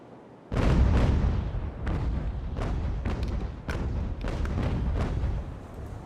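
Sailing ship cannons firing a broadside in the naval video game Ultimate Admiral: Age of Sail, a string of heavy booms rolling out one after another over several seconds, loud and rumbling, without speech.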